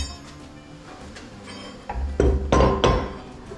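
Several sharp metallic hammer blows pressing a Mallory insert into a crankshaft in a machine shop, three or four strikes in a loose rhythm near the end, after quieter clinking and shuffling.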